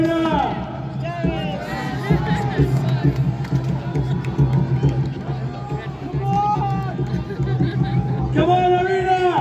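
Arena crowd in Pula cheering and shouting in rising waves, a dense roar of many voices with an announcer calling out over the noise.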